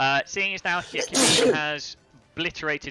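One sharp, loud sneeze bursts out close by between stretches of someone talking, a short breathy blast that quickly fades before his voice resumes.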